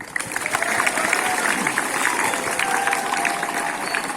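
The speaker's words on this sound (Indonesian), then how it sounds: "Mari kita tepuk tangan yang meriah." Loud, sustained applause from a large crowd at a school flag ceremony, dense clapping throughout with a few scattered voices mixed in.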